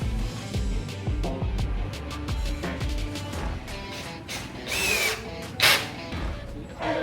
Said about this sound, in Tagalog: Narinig yung tunog, ibig sabihin, pasok na yung screw niya